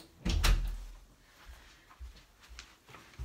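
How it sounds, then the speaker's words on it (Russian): Door being closed indoors, a thudding knock and rattle near the start, followed by a few softer bumps and movement sounds, fairly close with no talk. "Секундочку, двери закрою."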